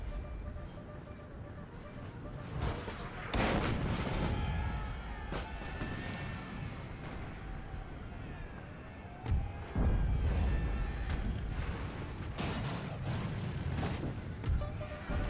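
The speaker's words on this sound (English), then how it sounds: "Howitzers, barrage!" Howitzer artillery barrage in Napoleon Total War, scattered deep booms and cannon blasts echoing through a busy battlefield with crowd noise, spread unevenly over a fairly faint mix.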